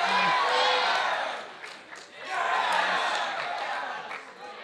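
A large crowd cheers and applauds loudly at a games developer presentation, swelling, dipping briefly, then rising again with whoops, heard from within the audience.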